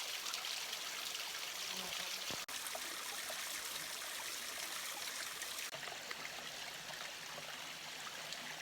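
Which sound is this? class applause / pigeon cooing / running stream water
running stream water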